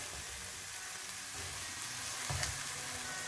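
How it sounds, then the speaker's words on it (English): Kebabs stirred in a cooking pot with a creamy sauce, a continuous sizzle and frying hiss with soft scraping and stirring bumps, close and steady throughout. "So first we'll just mix the kebabs."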